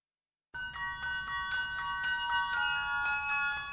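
Handbells ring out a song from The Greatest Showman, a sequence of clear bright struck tones about twice a second with long sustaining overtones, starting after a brief silence and playing alone.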